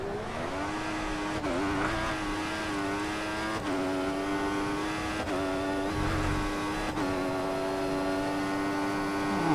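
A Formula 1 car engine held at full throttle in F1 2014, a loud, steady high-pitched whine with clear harmonic tones, briefly dipping in pitch at each of several quick gear shifts.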